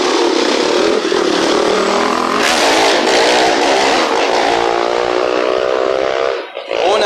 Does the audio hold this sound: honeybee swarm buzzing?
no